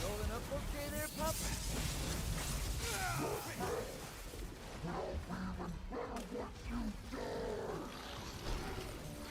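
A dog companion in Devil May Cry 5 whimpers and yips in short bursts during a noisy boss fight. Game effects and music are dense, and a voice talks throughout.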